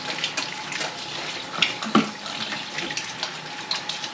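Water runs steadily from a tap at a sink as hands are rinsed, a moderate continuous splashing stream with a few brief clinks and drips over it, with no talking.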